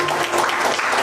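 Church congregation applauding during a Christian sermon, a dense, steady wash of many hands clapping close by for about a second with no talk over it.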